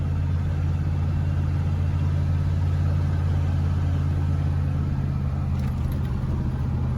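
Chevy K10 pickup truck engine droning steadily at about 2,000 RPM while cruising at 55, a constant low hum with road noise and no talking.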